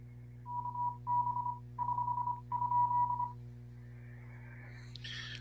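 Morse code from an amateur radio station in California, a steady pure tone keyed into four bursts of dots and dashes over a constant low hum, then a brief burst of hissy noise at the end.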